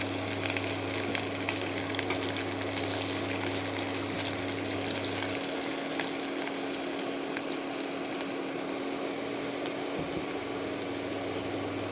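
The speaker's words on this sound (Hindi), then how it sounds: "गार्लिक को थोड़ा सौते कर लेंगे। थोड़ा सा गोल्डन हो जाने तक।" Garlic sautéing in a pan until golden gives a steady, close frying sizzle with a constant hum underneath, running alone without talk.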